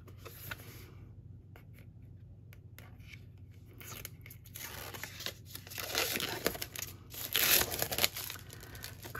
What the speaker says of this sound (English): You can peel that off, that's the back.